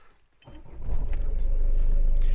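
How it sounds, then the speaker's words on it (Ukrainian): A 2000 Peugeot Partner 1.9 diesel van engine cranks and catches after a brief pause, then settles into a steady, loud idle rumble close by. "Машина заводиться з півтику в любу погоду."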